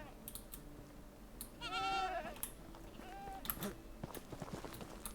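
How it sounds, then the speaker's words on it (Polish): Sheep in the Medieval Dynasty video game bleat in two quavering calls, one longer and clearer, then a shorter one, over quiet in-game ambience with faint footsteps. "A tak, były owce, barany i barany."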